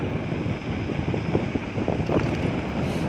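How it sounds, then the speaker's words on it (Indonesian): Steady wind buffeting the microphone while riding a home-built electric bicycle into a headwind, a dense, continuous low rumble with gusty fluctuations that stays fairly loud throughout. "Rasa anginnya berhembus dari depan."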